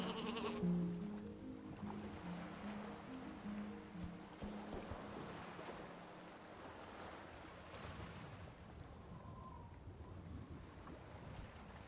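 Sheep bleat in short calls near the start on the Isle of Ewe, set against a steady wash of wind and surf by the sea, the animals fading as the outdoor rumble carries on.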